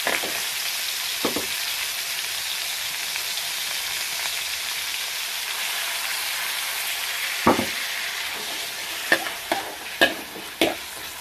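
Pork belly stir-frying in a pan with oyster sauce and light soy sauce for a Thai dish: a continuous close sizzle with several sharp spatula knocks and scrapes toward the end, no talk.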